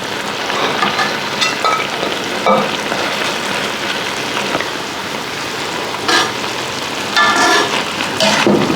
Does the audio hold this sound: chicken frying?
yes